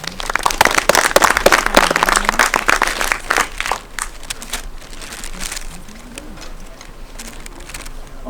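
Audience applause at a tech conference talk on decentralized confidential computing, loud dense clapping for the first four seconds, then thinning into scattered claps and room noise.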